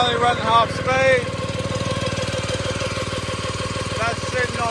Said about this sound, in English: The engine's only running half speed.